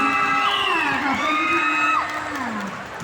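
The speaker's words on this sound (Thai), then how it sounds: "ขอเสียงปรบมือ" A lively crowd at a Thai stage show cheers and whoops loudly, with high excited shrieks and voices rising and falling over a constant roar throughout.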